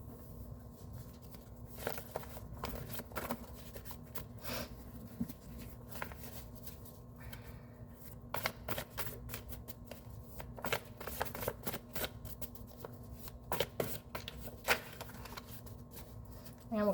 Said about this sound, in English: And we'll give it a good shuffle here.